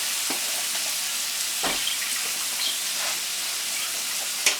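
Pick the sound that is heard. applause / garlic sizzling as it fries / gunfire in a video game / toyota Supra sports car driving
garlic sizzling as it fries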